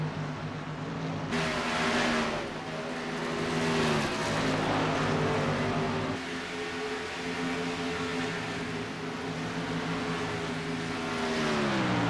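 NASCAR Xfinity Series race cars roar around the Charlotte track, engines droning loudly with rising and falling pitch as the pack passes and accelerates into a turn, a continuous dense wall of engine noise with no voices.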